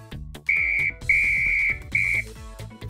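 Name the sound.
toy whistle being blown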